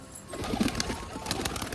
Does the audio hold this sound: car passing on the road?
no